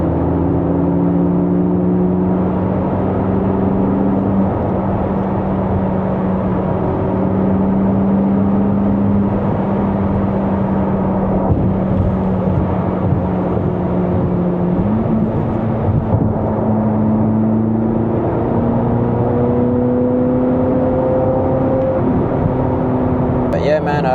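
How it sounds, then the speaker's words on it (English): A 2025 Chevrolet Corvette C8 Z06 cruises at night, its engine holding a steady loud drone with shifting tonal whine as speed rises and eases, while someone talks over it throughout. "Feels freaking crazy driving a C8, man"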